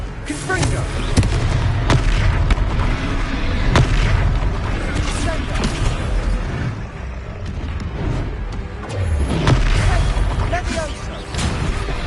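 Blasts from the Confringo spell in the Hogwarts Legacy video game boom repeatedly in loud, dense bursts amid continuous game noise and effects, with a voice shouting spells over the explosions.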